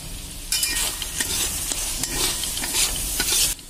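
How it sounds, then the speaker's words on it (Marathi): Brinjal masala for a dry vangyachi bhaji, cooked until the oil separates, stirred in a pan with steady close scraping and clattering over a continuous bright sizzle of frying oil. "तर आपण थोडंसं हलवूया."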